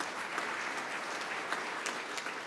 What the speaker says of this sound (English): Let's give him a big round of applause for supporting us.